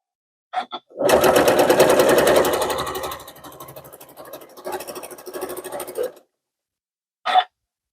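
A sewing machine runs fast while stitching a two-color faux flange binding onto a quilt. The motor drones steadily at first, then eases into a slower, softer stretch. Brief clicks come before and after the run.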